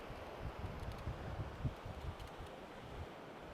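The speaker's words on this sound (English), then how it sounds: "It's very windy." Strong wind blowing across the open coast at Blue Anchor, a steady broadband rush with low gusty buffeting that carries on for the whole stretch, with no voices.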